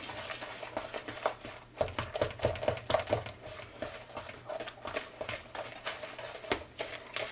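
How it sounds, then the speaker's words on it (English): Spoon stirring egg into walnut brownie batter in a bowl, a quick run of close, irregular scraping taps and clicks against the bowl with short pauses between strokes. "And just stir it up real good"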